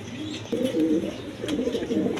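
King pigeons, a pink-beaked breeding pair among birds offered at a pigeon sale, coo in low, repeated throaty rolls. The calls come in two close bursts over quiet background noise, with no speech.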